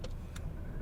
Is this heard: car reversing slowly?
yes